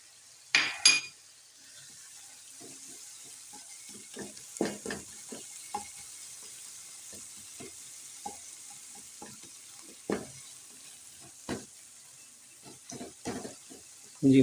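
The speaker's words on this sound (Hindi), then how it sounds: "अब इसमें ऐड करेंगे लहसुन और अदरक का पेस्ट" Garlic and ginger paste frying in a pan for a dhaba-style chana dal, with steady sizzling under repeated scraping stirs and occasional metallic clinks of the spoon against the pan, close up.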